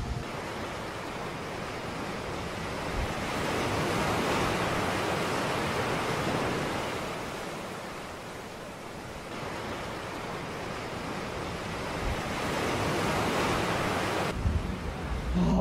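Ocean surf on Myrtle Beach, a steady broad wash of breaking waves with gentle swells in loudness, continuous and without voices.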